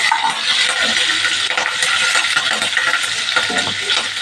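Ginger and a large green chilli fry in a pan, a steady loud sizzle running continuously throughout with faint stirring scrapes, close by and without talk.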